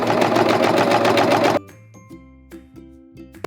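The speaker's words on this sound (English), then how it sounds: "now we're ready to step on the pedal" A serger sewing machine stitches fabric in a loud, fast continuous whir for about a second and a half, then stops abruptly, leaving faint soft clicks and hum.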